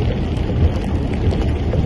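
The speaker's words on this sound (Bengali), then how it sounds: "তো বৃষ্টির পরিমাণটা একটু বেশি মনে হচ্ছে" Heavy rain drums on a car while driving through a university campus in Dhahran, Saudi Arabia, with runoff flooding the road; a steady, dense, continuous wash of rain noise fills the cabin without a break.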